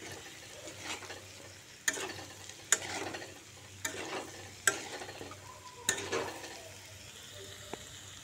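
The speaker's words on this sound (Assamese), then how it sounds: "এনেকৈ আধা মিনিটমান লৰাই থাকিম যাতে ধুনীয়াকৈ মিক্স হৈ যায়" A spatula scrapes and stirs Assamese-style pork in a pan with a steady rhythm of sharp strokes at close range, above a low background hum and faint sizzling.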